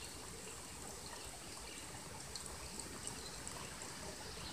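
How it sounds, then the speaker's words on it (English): Spring water trickles steadily as it is filtered through a Sawyer Mini squeeze filter into a drinking bottle on the Appalachian Trail, a soft continuous flow with faint splashes and no talking. "And then you filter the water into your drinking bottle."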